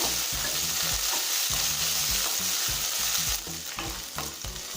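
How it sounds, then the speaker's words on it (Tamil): Okra stirred and sautéing in a little oil in a kadai, a steady close sizzle with a repeated rhythmic scrape of the spoon against the pan; no voices. "கடாயில் கொஞ்சமாக எண்ணெய் சேர்த்துக்கோங்க. இப்போ அரை கப் வெண்டைக்காயை சேர்த்துக்கலாம். வெண்டைக்காயை நல்லா வதக்கிக்கலாங்க"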